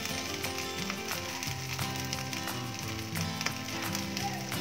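Drumstick leaves sauté in a pan with a steady, dense sizzle that runs throughout, close and fairly quiet, with no talking.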